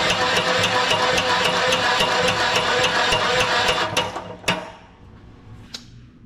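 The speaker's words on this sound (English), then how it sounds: "I swapped that battery out with a known good battery, and it's still cranking pretty slow" The engine of a 75-year-old JI Case LA tractor cranks slowly on its starter, a loud steady mechanical churning with regular chugging pulses that winds down and stops, followed by a few clanks.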